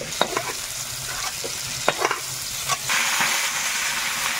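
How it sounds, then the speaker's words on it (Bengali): Vegetables fry and are stirred in a pan, giving a continuous close sizzle with a few sharp scrapes and knocks from a utensil. The sizzle swells louder in the final second and a half. "সবজিটা ভাজা হয়ে গেছে"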